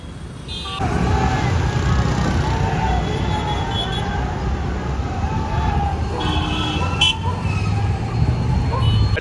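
Busy street traffic on a public holiday, a steady roar of engines and passing cars with horns tooting now and then, some distant siren-like tones, continuous and fairly loud.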